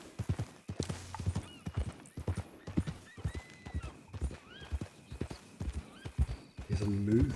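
Rhythmic clip-clop of horse hooves walking in Red Dead Redemption 2 Online, steady and close, with a whinnying neigh toward the end and someone talking over it.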